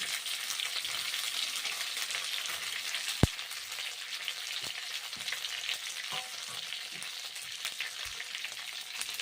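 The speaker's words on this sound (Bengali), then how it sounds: "একটা একটা করে আমি এখন গরম কড়াইয়ের মধ্যে ছেড়ে দিচ্ছি" Pitha fry in hot ghee in a wok, a constant close hiss and crackle of bubbling fat with an occasional soft tap or clink, steady throughout and without voices.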